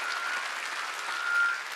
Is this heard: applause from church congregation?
yes